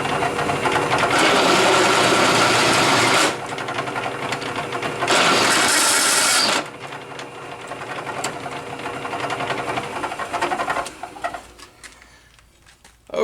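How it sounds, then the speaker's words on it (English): A countersink bit cuts into metal as weld prep for new leveling feet, in two loud, steady, grinding bursts with a short gap between them, before the sound fades to quieter shop noise. "Now I'm going to put a countersink in it as a weld prep."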